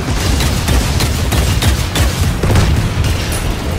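Rapid mech gunfire from a Super Mecha Champions team deathmatch, a dense burst of booming shots fired in quick succession, loud and continuous throughout with no voices.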